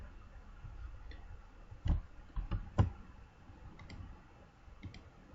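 Computer mouse clicks during work in Microsoft Word, a few sharp isolated clicks with a quick cluster in the middle, close and fairly quiet over faint background noise.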